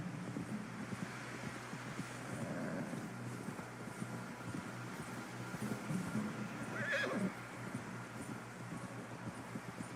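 Horse in the Red Dead Redemption 2 video game, with a clear whinny late in the stretch over continuous clip-clop hoofbeats and wind, steady and moderately loud throughout.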